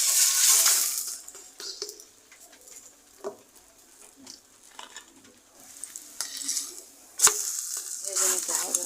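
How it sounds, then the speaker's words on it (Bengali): An egg paratha fries in a pan with bright, loud sizzling that swells and fades, broken by scraping and spatula taps and occasional sharp clinks. There is no speech. "আমি আরেকটি পরোটা আপনাদেরকে ভেজে দেখাবো"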